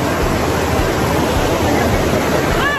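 Water flows continuously over rocks at a farm resort, a loud, close, even rushing that fills the scene without pause; no voices.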